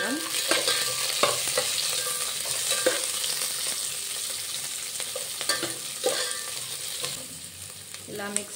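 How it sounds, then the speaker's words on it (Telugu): Onion pieces are stirred in a hot pan with a spatula, giving a steady sizzle broken by repeated scraping strokes at irregular intervals, close and clear with no talking. "కొన్ని ఆనియన్ ముక్కలు, ఇప్పుడు మనం మిక్స్ చేసుకుందాం."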